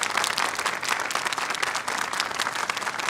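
A hall audience applauds steadily as a guest speaker is invited up to the podium, even sustained clapping with a faint crowd murmur beneath and no speech over it.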